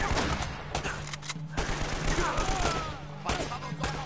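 Shotgun fire in the video game Uncharted, with a few heavy blasts standing out from a dense, noisy wash of game combat audio.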